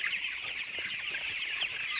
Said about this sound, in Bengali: এই কারণে আর কি মুরগি বাচ্চাগুলা খাবার খাচ্ছে।